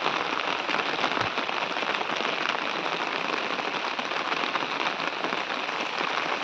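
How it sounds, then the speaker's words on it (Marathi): Heavy monsoon rain pours down in the Konkan hills, a dense, loud, unbroken hiss of drops on surfaces that is steady throughout with no voices. "बघू शकता किती पाऊस आहे इकडे"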